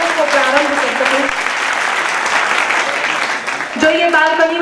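Sustained, loud applause from a large audience at a Hindi poetry recital, a dense clapping wash filling the whole stretch, with a voice speaking over it at the start and again near the end.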